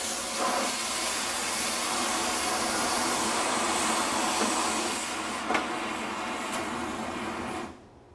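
An HHO hydrogen torch flame used for steel cutting roars in a steady, loud hiss that holds evenly before cutting off abruptly near the end.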